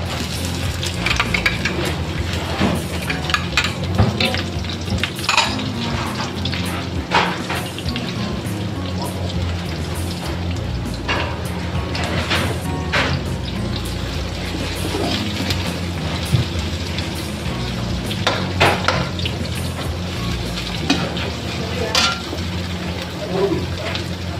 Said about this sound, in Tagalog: make it golden brown po yung bawang then tsaka ko natin ipapalo yung onion